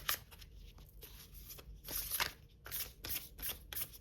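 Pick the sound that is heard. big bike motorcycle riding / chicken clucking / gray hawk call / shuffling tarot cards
shuffling tarot cards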